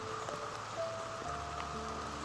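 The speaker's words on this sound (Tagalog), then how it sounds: "Malakas yung ulan." Heavy rain pours steadily outdoors as a dense, continuous hiss with no break, alone and without voices.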